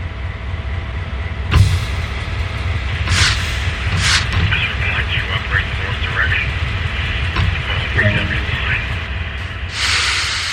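A train in Train Sim World 2 moves with a steady low rumble, punctuated by sharp bursts of air hiss from the brakes; no voices are heard.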